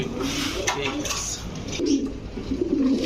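Budapest pigeons cooing in a cage, low soft coos repeating under steady background clatter like dishes, with faint talk nearby.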